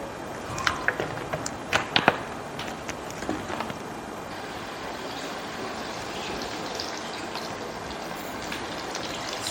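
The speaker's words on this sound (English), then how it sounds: "First we're going to fry the fish." Fish frying skin-down in ordinary cooking oil in a hot pan, a steady broadband sizzle throughout with a few sharper pops and spits early on, close and moderately loud with no talk.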